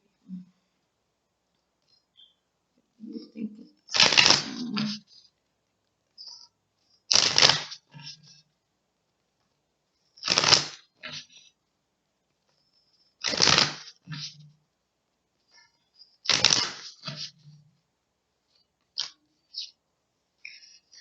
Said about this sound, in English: I'm gonna shuffle a few more cards.